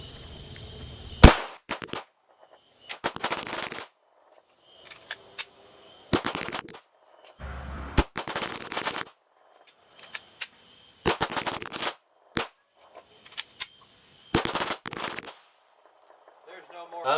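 Tisas BR9 9mm pistol fired in rapid strings during a 1,000-round endurance test, sharp loud shots in quick bursts separated by short pauses, with a few quieter gaps between strings.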